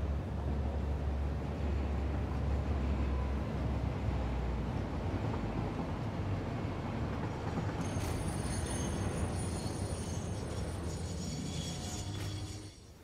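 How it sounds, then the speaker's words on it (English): A train rolls steadily along rails in the factory-building video game Satisfactory, a continuous loud rumble that holds for about twelve seconds before easing off at the end, with no talk. "And that's blocked because there's a train on it."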